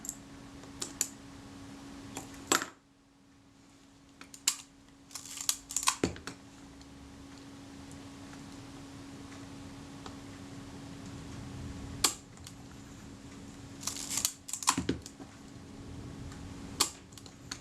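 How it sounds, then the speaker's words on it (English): Kodak Retina IIIc camera being worked by hand, its shutter release and film advance giving sharp mechanical clicks and short clattering bursts at irregular intervals over a steady low hum, close and fairly loud. "the shutter is released and the film advance is released at pretty much the same point"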